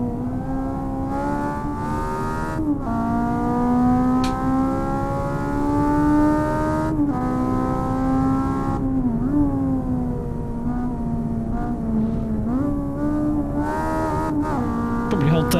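Race car engine in the Assetto Corsa video game revving and holding high, steady whining harmonics that rise and dip with throttle changes through gear shifts, loud and continuous throughout with no talk.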